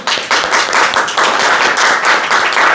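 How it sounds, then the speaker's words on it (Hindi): Loud audience clapping at an internship orientation session, close and vigorous, with bursts of many hands surging in uneven waves across the whole stretch. "तो तालियां हो जाए जोर से"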